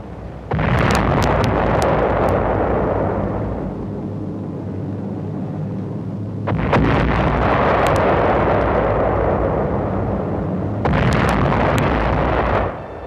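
Bombs exploding in archival war footage: three long, loud roaring blasts with crackling bursts at their onsets, each rumbling on for several seconds.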